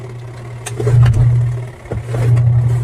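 A faulty washing machine motor hums while running in reverse, a steady low electrical drone that swells and dips in two surges, close and fairly loud.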